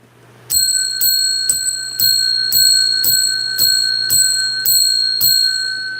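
A small hand bell rung by a host in a studio, about ten quick, bright, evenly spaced dings in a steady rhythm, close and clear with no talk.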